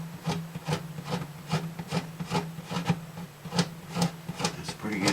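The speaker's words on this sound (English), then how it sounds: "let's see if we can scrape it down a little bit." Dried super glue is scraped off a guitar's finish with about a dozen rhythmic rasping strokes, evenly spaced and close, with a faint hum underneath.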